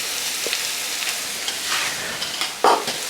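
Coriander and other spices sizzle steadily in a pan for a masala omelette while a utensil stirs them, adding soft scraping and a sharper clatter near the end.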